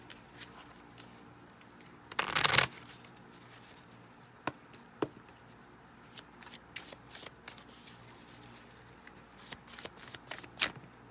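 Tarot message cards being shuffled in a quiet room during a love reading, a brief loud riffle burst followed by scattered soft card taps and slides, no talking.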